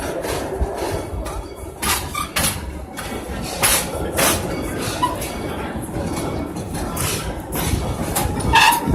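A small passenger train runs along with a continuous rumbling clatter, occasional sharper knocks and rattles standing out over the steady rolling noise, heard from on board.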